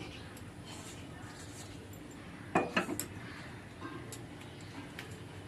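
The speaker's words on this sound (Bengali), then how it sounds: "এবার আমি গ্যাসটাকে অন করলাম, কড়া বসিয়ে দিলাম।" A kadai wok is set down on a lit gas stove while cooking a vegetable curry, giving a brief pair of metallic clanks near the middle over a steady low kitchen hiss.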